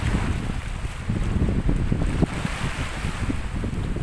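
Strong monsoon wind at a seaside in Barangay Libjo buffets the microphone with a loud, continuous rumbling roar, and the surf is mixed into the gusts.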